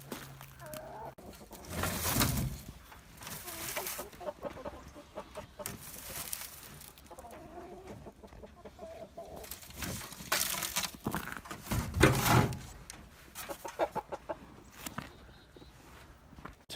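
Chickens in a brooder scratching and pecking at the ground, soft clucks scattered over quiet rustling and patter, with a few louder close bursts of scratching.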